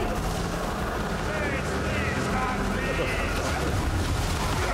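Gunfire in the video game Darktide, a dense, loud, continuous roar of shots and blasts filling the whole stretch with no break.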